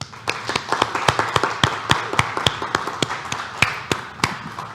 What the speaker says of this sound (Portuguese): Na plateia, para vocês, agora sim, uma salva de palmas